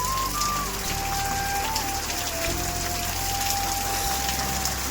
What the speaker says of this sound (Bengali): দেখো বৃষ্টি হচ্ছে রাতে